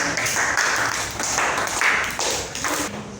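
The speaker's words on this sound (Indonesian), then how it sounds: "Kita berikan tepuk tangan." A group of children claps together in a burst of steady, lively applause, close by and filling the room.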